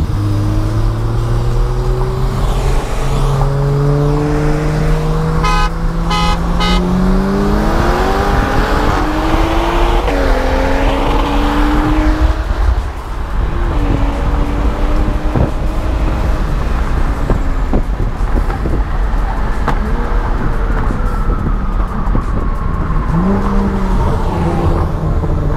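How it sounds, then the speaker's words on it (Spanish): A CUPRA car accelerates hard on a street, its engine revving loudly and climbing through gears in long rising sweeps, close and continuous for the whole stretch. "Jala durísimo el Cupra, la neta."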